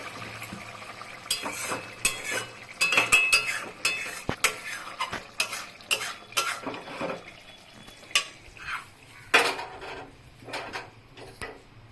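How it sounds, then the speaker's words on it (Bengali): Alu posto, a Bengali potato and poppy-seed dish, is scraped from a pan into a bowl. Close, irregular clinks and scrapes of a utensil against metal and the bowl come in quick bursts, with no talking. "এখন নামিয়ে নিলাম বাটিটার মধ্যে"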